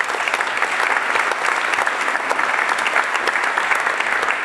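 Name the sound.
audience applause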